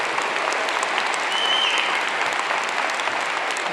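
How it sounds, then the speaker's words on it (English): A large audience at a commencement ceremony gives graduates loud, sustained applause. The clapping is full and steady from start to finish, with light crowd noise mixed in. "Let's give all of our graduates a round of applause"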